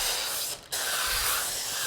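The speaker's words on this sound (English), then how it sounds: "we are going to just spray it really well" Cooking spray hisses onto a parchment-lined large sheet pan in a steady close burst, broken by one short pause before the spraying resumes.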